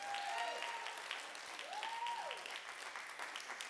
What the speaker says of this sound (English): Clap your hands and